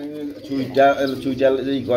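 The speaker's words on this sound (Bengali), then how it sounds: "বাবু ভাই এটা কি কবুতর আমরা দেখতে পাচ্ছি?" Pigeons coo softly and repeatedly nearby at a pigeon farm while a person talks over them.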